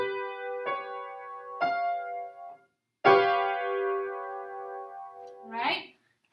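Seventh chords with a flattened fifth sounded on a piano, two short stabs, then a longer sustained chord that rings before fading, with a brief voice at the end.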